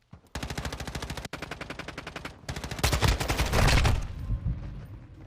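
Sustained automatic gunfire in GTA V online play: steady rapid bursts with a brief break, then a heavier, louder stretch of overlapping shots that tails off, close and with no talking.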